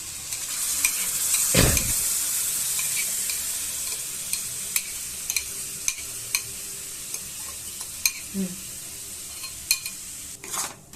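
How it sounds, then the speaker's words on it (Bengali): A spoon scrapes and knocks against a pan in scattered strokes over a continuous hiss of potatoes frying with a yogurt paste. "আমি এটা ভালোভাবে নাড়তে এবার নাড়তে থাকবো"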